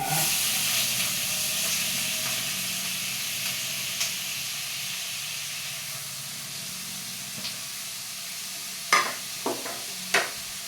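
Sliced onions frying in a pan for an egg stir fry, a steady soft sizzle and hiss throughout, with a few sharp clacks of stirring near the end.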